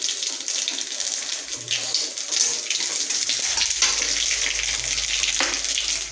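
Black cumin seeds, dried chillies and garlic frying together in hot oil in a pan, giving a loud, continuous crackling sizzle close by, with a low hum underneath.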